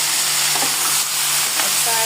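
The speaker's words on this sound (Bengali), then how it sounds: "ভাজা ভাজা হতে থাকে।" Raw tomato sizzles in hot oil with a black cumin tempering, with already-fried potatoes in the pan, giving a steady close crackle and hiss with a few stirring scrapes.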